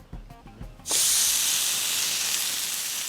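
A steak rubbed with olive oil and pepper hits a hot pan and bursts into a loud, steady sizzle that carries on after a few soft knocks.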